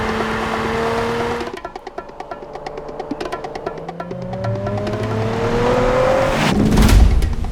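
A Nissan Z sports car engine revs hard toward nearly 7,000 RPM, a rising wail that climbs in pitch, drops, and climbs again, loud and close with a rough burbling edge throughout.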